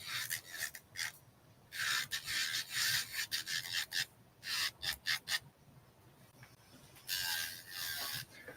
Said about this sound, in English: This is to just help you buff and smooth it.